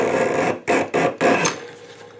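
A Craftool leather splitter shaves a thin strip of leather, giving a close, loud rasping scrape followed by three quick, separate shaving strokes that fade into quiet.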